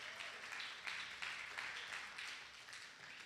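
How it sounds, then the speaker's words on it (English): Audience at a Center for Spiritual Living service on Kauai applauding the Science of Mind textbook, a quiet, distant spread of clapping with faint rhythmic pulses, fairly even and soft throughout. "So let's give the book a round of applause"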